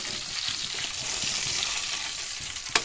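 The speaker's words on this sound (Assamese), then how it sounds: "বাকিখিনিও সেই একে প্ৰচেছৰে ফ্ৰাই কৰি লম" Fish fry in hot oil in a pan, giving a steady close sizzle and bubbling crackle throughout with a sharp clink near the end.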